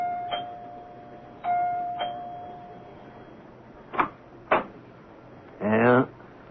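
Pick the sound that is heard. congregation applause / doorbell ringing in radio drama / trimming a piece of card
doorbell ringing in radio drama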